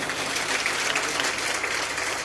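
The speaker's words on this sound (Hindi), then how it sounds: "आप सभी की ओर से एक बार तालियां चाहूंगा भाई" Audience applause at a live Rajasthani comedy performance, a dense, even patter of many hands clapping continuously at moderate loudness without pause.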